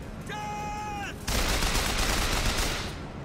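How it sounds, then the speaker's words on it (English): A gun firing in the video game Bioshock Infinite, a sustained burst of loud shots filling the second half after a short electronic tone, with no speech over it. "can shoot him from here, can't I?"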